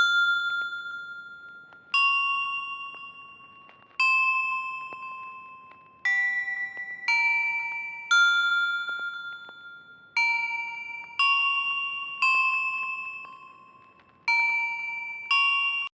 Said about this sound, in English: So we get like this harmonic for the bell. The notes for the bell melody are these.